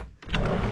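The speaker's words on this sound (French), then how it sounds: "Alors on va ouvrir la porte," A door swings open after a brief hush, giving a broad, rushing scrape that swells and holds steady, close and moderately loud with no voices.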